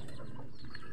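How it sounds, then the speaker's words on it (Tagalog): A native chicken clucks amid dense, noisy background, short soft calls over steady low rumble and wind-like hiss. "Native chicken. Ayan. Native chicken."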